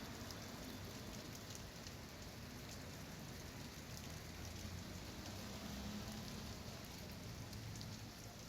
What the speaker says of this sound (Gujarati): ચાંદખેડા, બોપલ, શેલામાં વરસાદ વરસી રહ્યો છે